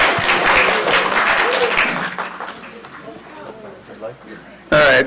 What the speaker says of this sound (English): let's not do any applause from now on